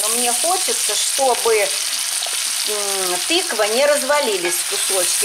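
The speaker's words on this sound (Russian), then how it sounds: "Жарится у меня все, что я называла." Pumpkin, mushrooms and other vegetables for a meatless stew fry in a little oil in a pan, a steady sizzle with stirring running under continuous talk throughout.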